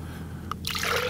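About 100 ml of orange juice is poured into a container at a desert camp: a single drip, then a steady, close trickling splash that builds and holds to the end.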